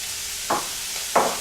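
Onion and red pepper drop into a gumbo pot and get stirred, giving two short soft sizzling swishes about half a second apart over a quiet background, with no talking.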